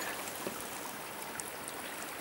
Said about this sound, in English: this is the first section of the creek.